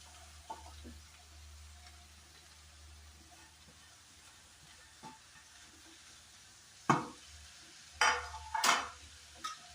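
Spinach thoran with salt stirred in a pan: a faint low simmer broken by a handful of scraping, clattering spoon strokes that grow louder toward the end.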